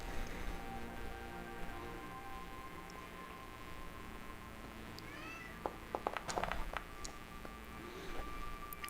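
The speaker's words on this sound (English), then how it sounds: "The cat's just meowing at me." A cat meows a few times up close, its short calls coming in a brief cluster over quiet background noise.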